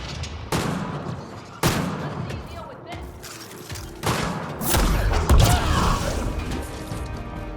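Rapid bursts of gunfire crack out in Mass Effect Andromeda, several loud shots spaced over several seconds amid mechanical clatter and battle noise, with a voice talking over it.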